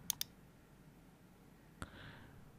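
Two quick, sharp mouse clicks come close together at the start, followed by a single click later, all small and close against a quiet room background.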